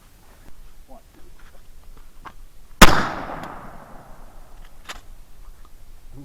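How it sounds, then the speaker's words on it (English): A single shotgun blast fired outdoors at an empty soda can tossed into the air, one sharp loud report at mid-distance with a decaying tail, with faint voices and footsteps before and after. "I'm gonna see if I can throw an empty soda can up in the air and take it out with the shotgun"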